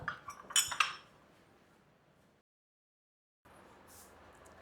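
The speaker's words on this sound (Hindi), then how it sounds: "चल ये बर्तन धरे आऊँ, देऊंगी" Metal utensils and dishes clatter as they are set down in a Haryanvi household, a quick burst of clinks and chinks up close, then fading to near silence.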